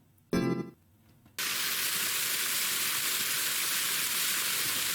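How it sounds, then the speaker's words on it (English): In the visual novel Ame no Marginal, a short tonal game chime sounds first. Then a dense, even hiss of rain starts abruptly and continues loudly and unbroken to the end. "Rain."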